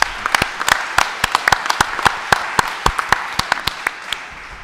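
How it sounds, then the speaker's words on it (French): A modest audience at a racehorse breeders' general assembly claps to thank commission members, with sharp individual claps standing out over a softer wash of applause that carries on steadily and then tapers. "Je voudrais qu'on les applaudisse pour les remercier."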